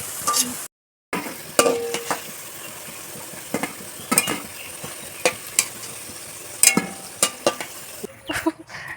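Salt and nigella seeds frying and being stirred in a pan, with a steady sizzle broken by repeated sharp clinks and scrapes of a utensil against the metal, loud and close, with no talk.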